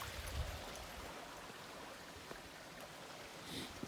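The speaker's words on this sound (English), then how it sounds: "Fixing to cross the creek here" A creek flows quietly in a Colorado hunting area during a crossing, a faint steady trickle and burble with a few soft knocks, no talking.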